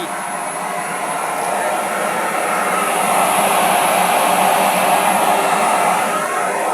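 A blower on a die head runs loud and close, a constant rushing whoosh that holds steady for several seconds without pause.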